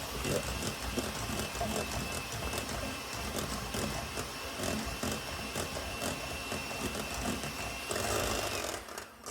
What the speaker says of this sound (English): take a hand mixer and cream that together